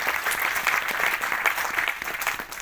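Vigorous audience applause at a direct selling business seminar, dense overlapping clapping sustained throughout.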